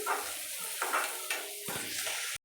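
An egg frying in a pan is stirred with a utensil, giving scraping strokes over a steady sizzle, with a few light clinks against the pan, close up and without talk.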